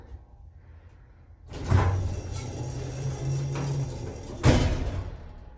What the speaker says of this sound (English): That thing stops with a big bump and the door bangs.